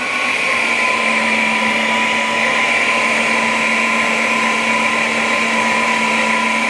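A flow bench machine roars steadily as it draws air through an MGB race engine head, a loud, unbroken whooshing drone with a constant whine running through it.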